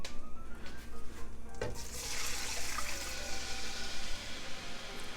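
White wine pours into a pot of pasta and red pepper during one-pot white wine pasta cooking, a steady splashing liquid stream with sizzling, continuous and close throughout.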